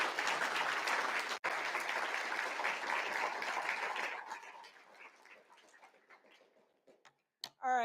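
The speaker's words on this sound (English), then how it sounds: "Let's give a round of applause to our speaker." An audience at a general body meeting applauds a speaker with loud, sustained clapping that fades out over several seconds, leaving scattered claps and a brief voice at the end.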